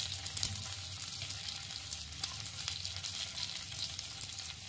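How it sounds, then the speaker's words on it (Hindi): Idli pieces sizzling and frying in a hot pan, a steady faint crackle and hiss running throughout with small pops, no voices. "चलिए पैन गरम हो चुका है, हम इसमें इडली डाल देंगे।"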